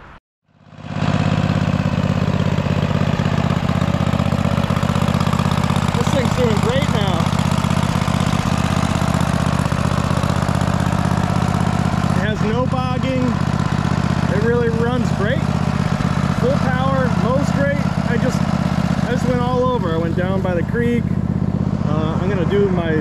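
A Cub Cadet RZT zero turn mower with a 54 inch deck, just repaired after a fuel line came undone, starts and runs loud and steady for the whole stretch. A voice comes through briefly over the droning engine.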